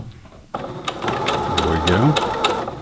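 Singer Heavy Duty 6800C sewing machine stitching thicker fabric, a steady mechanical whir with rapid needle clatter that starts abruptly and runs continuously, close and fairly loud with no talking.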